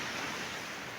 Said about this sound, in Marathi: तरी लाटा वगैरे येते, अशा पाणी वगैरे आहे आणि समुद्र सपाटी आहे इकडं